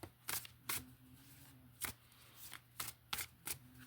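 Playing cards being shuffled and drawn for a tarot-style reading, several crisp riffling bursts spaced through the clip, close and clear over a faint steady hum, with no talking.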